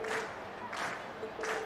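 A crowd applauding and cheering in a Trails of Cold Steel video game cutscene: three short swelling bursts of clapping and cheers, moderately distant and fairly faint.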